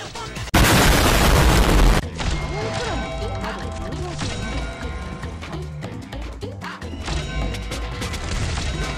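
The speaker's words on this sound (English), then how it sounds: "M3, this is where the explosions come in." Explosive skill effects from Mostima's third skill in the mobile game Arknights: a loud broadband blast bursting in after a brief lead-in, followed by dense, continuous rumbling impacts and layered game effects.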